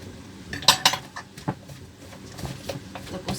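Chopped garlic and salt scraped and stirred in a pan with a metal utensil, giving a few sharp clinks near the start, then softer scraping and stirring strokes at close range, with no talk.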